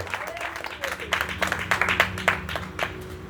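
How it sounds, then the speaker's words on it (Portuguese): A church congregation bursts into loud applause during a worship service, with dense overlapping claps filling the room and sharper individual claps standing out against a low murmur. "dê uma salva de palmas bem forte para Jesus"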